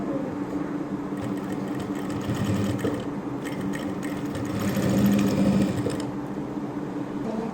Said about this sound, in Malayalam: അപ്പോൾ നമുക്ക് ഇതുപോലെ വെച്ചിട്ടൊന്ന് സ്റ്റിച്ച് ചെയ്ത് കൊടുക്കണം.